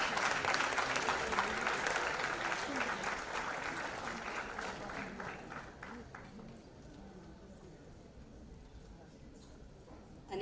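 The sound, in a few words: audience applause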